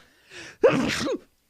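One human sneeze, close and loud, preceded by a brief sharp inhale and heard alone in a quiet room.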